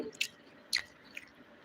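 Soft, fluffy idli being chewed close to the mic, a few brief moist squishy bites spaced apart over quiet background.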